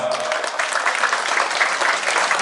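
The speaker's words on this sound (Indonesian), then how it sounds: "Mari kita kasih aplaus kepada beliau." Audience at a gathering in an Islamic boarding school clapping steadily, a dense sustained burst of applause from many hands, loud and continuous.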